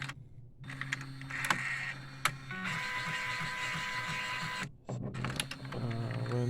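A DTG 1400/1390 printer under repair runs its mechanism while pumping ink through the pipes, with whirring motor passes, clicks and short mechanical bursts broken by brief pauses, close and fairly quiet.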